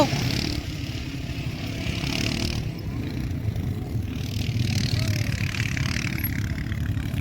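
A motorbike engine rumbling close by, its note shifting as it pulls up and stops, settling into an idle.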